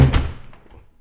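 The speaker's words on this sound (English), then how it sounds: "Kind of noisy door" A single close, hollow thunk of a house door shutting in a custom-built Central Florida home, followed by a short fading rattle and a faint knock.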